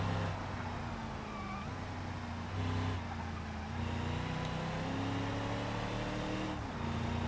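Video game car engine on a flood escape map, a steady droning hum with shifting pitch as it accelerates, continuous and fairly loud throughout with no talk.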